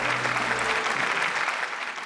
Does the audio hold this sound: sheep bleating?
no